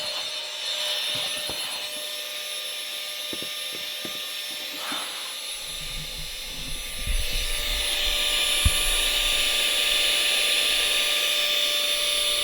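An Aerogogo Giga Pump 4.0 compact electric air pump runs steadily while inflating a pad, a continuous whirring drone that grows slightly louder and fuller partway through, with a few faint handling knocks early on.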